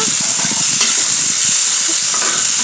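Cumin seeds sizzle and crackle steadily in a hot pan of oil for chutney, a continuous close frying hiss with light stirring scrapes throughout.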